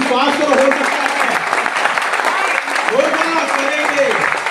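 A seminar audience in Bilaspur, Chhattisgarh applauds loudly and steadily throughout, a dense wash of many hands clapping while someone speaks over it.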